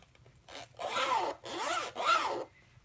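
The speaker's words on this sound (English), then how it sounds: "it's metal here and it's very easy for you to zip" The metal zipper on a Chanel Jumbo Classic Flap bag is drawn in three smooth, rasping pulls, each close and fairly loud, with short gaps between them and no talking.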